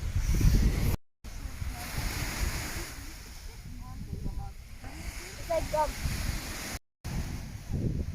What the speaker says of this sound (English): So this is Calis Beach again.